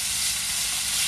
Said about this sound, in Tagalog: I'm gonna put the beef meat here.